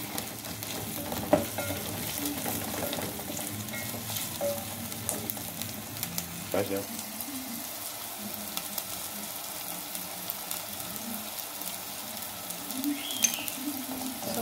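Onion and green pepper fry in a pan for spaghetti bolognese, a soft, even sizzle with occasional faint stirring clicks, fairly quiet and without voices.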